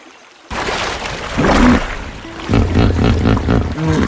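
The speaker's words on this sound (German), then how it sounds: "Aus der Ferne stieß das alte Nilpferd ein tiefes Brüllen aus, dessen Geräusch durch den ganzen Sumpf hallte." An old male hippopotamus in a swamp gives deep, rumbling roars in several loud surges over steady water and ambient noise.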